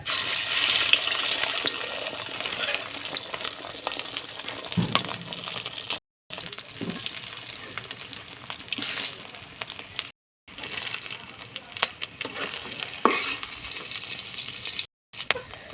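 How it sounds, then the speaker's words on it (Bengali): Steady hissing sizzle of an egg frying in hot oil in a wok, fairly close and loud, with a few brief silent breaks. "ডিম ভাজা হচ্ছে"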